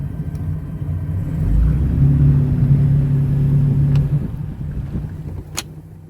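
A boat's Volvo Penta SX-M outdrive with a replaced cone clutch is shifted into reverse. A sharp, brief clunk sounds over the steady low rumble of the idling engine, with a faint click shortly before it.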